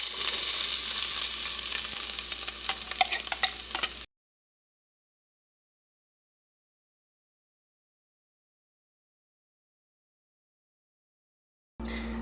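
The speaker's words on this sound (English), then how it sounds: "add 2 tablespoons of olive oil into a pot over medium heat, and then add half a cup of diced onion" Diced onion sizzles and fries in olive oil in a pot over medium heat, a steady crackling hiss for a few seconds, then a long silence before the sizzle briefly returns.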